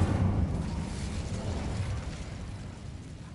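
Incendio fire spell cast in the Hogwarts Legacy video game, a muffled whooshing burst of flame that starts strong and fades over a few seconds.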